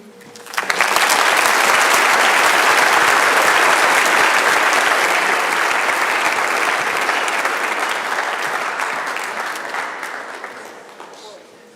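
Sustained, loud audience applause at a high school Veterans Day program, building quickly and holding steady for about ten seconds before tapering off, a dense crowd of clapping hands with no talk over it.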